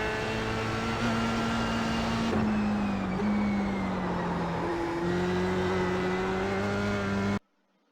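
Formula race car in iRacing at the Charlotte Roval, engine held near full throttle with a steady high drone, pitch dipping at gear changes and climbing again, loud and continuous until it cuts off near the end.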